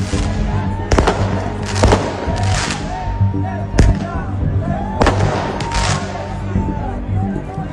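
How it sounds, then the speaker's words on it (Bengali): Fireworks thrown by protesters at the Israeli embassy in Athens burst in loud repeated bangs and crackles amid a street protest crowd, with a voice talking over the blasts. "এথেন্সে ইসরায়েলি দূতাবাস লক্ষ্য করে আতশবাজি নিক্ষেপ করে তারা"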